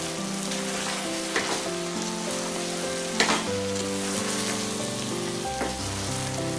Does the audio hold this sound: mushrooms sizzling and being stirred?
yes